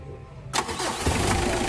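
The engine of a Mitsubishi L300 van cranks and catches, then settles into a steady, close, loud idle that fills the rest of the moment.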